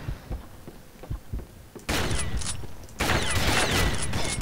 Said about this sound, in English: Halloween shotgun one-shots from that range